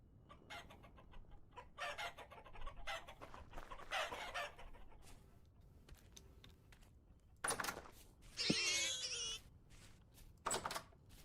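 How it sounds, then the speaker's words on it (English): Hens cluck and a rooster calls in the video game Vintage Story, scattered clucking bursts and one louder squawking cry, faint and somewhat distant, without voices. "All right, these hens are all grown up."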